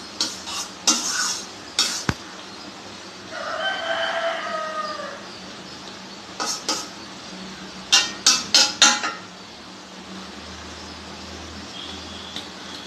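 Oyster mushroom curry stirred in a pot, heard as bursts of sharp metal spoon clinks and scrapes separated by pauses, with a rooster crowing in the background.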